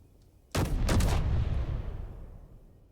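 An assault cannon in Space Engineers fires twice in quick succession, two loud close booms whose heavy rumbling tail fades out over about two seconds, with no talking.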